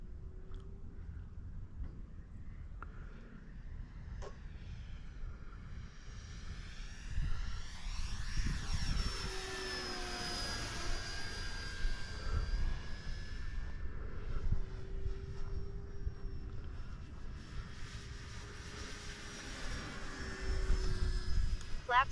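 RC model airplanes, a Viper and a Turbo Timber Evo, fly overhead outdoors with a sustained engine whine that rises and falls as they pass, over a steady wind-like background with people talking.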